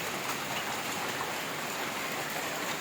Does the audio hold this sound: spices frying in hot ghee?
no